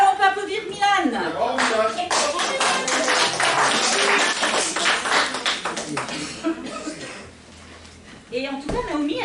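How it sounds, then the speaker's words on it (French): An audience at a Christmas party claps for a child named Milan, a dense burst of applause lasting several seconds that rises, holds and tapers off, with voices speaking before and after. "Alors on peut applaudir Milan."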